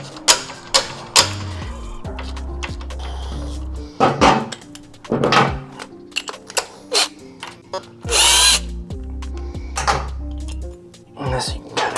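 Power tool driving out a T45 Torx bolt from the master cylinder assembly on a Harley-Davidson Low Rider ST motorcycle, heard as several short, loud whirring bursts with pauses between them, alongside clicks and handling clatter.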